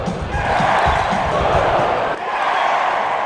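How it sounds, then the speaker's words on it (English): A hockey arena crowd at a Detroit Red Wings game roars continuously, a dense wash of many voices with booing and cheering blended into a steady, loud din. "The Red Wings, of course, do that boo versus cheer thing."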